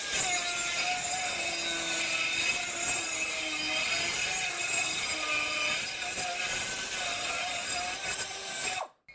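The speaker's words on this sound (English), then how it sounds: "Now I'm going to be using a carbide burr on an air-powered die grinder." A carbide burr spins on an air-powered die grinder as it trims metal, producing a continuous high-pitched grinding whine that holds steady and close for several seconds before cutting off abruptly.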